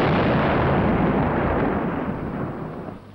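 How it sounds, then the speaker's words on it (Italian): A seismic exploration blast set off in desert sand on an oil survey booms loud and close, a dense roaring burst that fills the whole clip and only starts to fade near the end. "Gli uomini venuti dall'Italia sollevano montagne di sabbia con le loro esplosioni che si ripercuotono lontano, oltre le dune."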